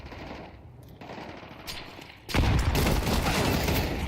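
Counter-Strike gunfire at a PGL Cluj-Napoca esports match: scattered shots and a brief rapid burst give way to a loud, sustained volley of automatic fire that fills the last half of the clip.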